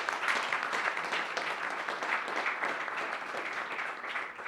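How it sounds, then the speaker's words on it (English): An audience at a pharma CEO breakfast gives a steady round of applause, a dense wash of clapping at moderate loudness that continues evenly for a few seconds without voices. "Please give him one last round of applause."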